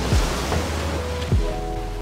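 Gentle ocean surf washes ashore at Alona Beach in Panglao, Bohol, a soft continuous wash of water with light wind across the microphone and two brief louder thumps.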